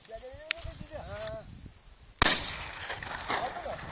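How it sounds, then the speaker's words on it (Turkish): A single sharp gunshot cracks out close by during a hare hunt on a highland plateau, loud and abrupt after some calls and voices, followed by fading rustle. "Şu anda tavşanı vurduk."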